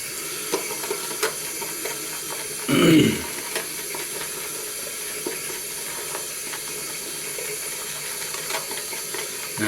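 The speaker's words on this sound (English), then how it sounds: "just add a little more water to the brush." Water is added to a shaving brush during a straight-razor wet shave, a short splashing trickle lasting about half a second amid an otherwise quiet room.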